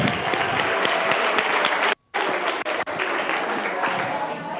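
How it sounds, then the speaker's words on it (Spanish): An audience applauds a couple at a talk on physical activity and the brain, a full steady round of clapping with a brief drop-out in the middle and voices murmuring underneath. "¡Un aplauso!"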